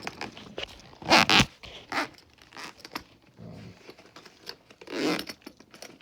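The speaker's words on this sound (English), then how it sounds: "When you're zipping her up." A Milwaukee Packout tech bag's zipper is pulled shut in several quick rasping bursts, close up, with rustling fabric and small handling clicks between them and no talk.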